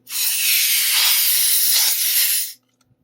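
A can of compressed air blasts the battery contacts of a Game Boy DMG clean. It gives one loud, close, continuous hiss of about two and a half seconds that cuts off sharply into near silence.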